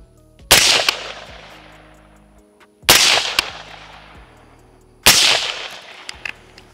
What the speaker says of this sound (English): it's a lot quieter, obviously, than when we shot it without a muzzle brake.